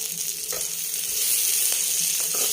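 Seeds fry in hot oil with a dense, steady sizzle and crackle, close and continuous, with faint stirring and no talk.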